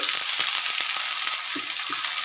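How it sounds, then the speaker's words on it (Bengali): Vegetables frying in a pan with salt and turmeric, a loud continuous hissing sizzle with faint stirring knocks underneath. "আমি সবজিটা ভালো করে ভেজে নেব"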